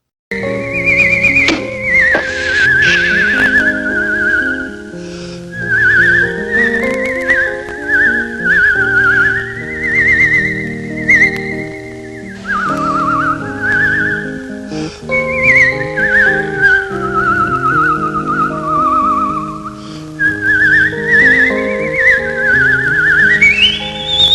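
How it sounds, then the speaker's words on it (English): A melody whistled in a Peanuts skating scene, a clear, wavering whistled tune that rises and falls over soft instrumental accompaniment, continuing loudly for the whole stretch. "There is something interesting about the song that's being whistled here."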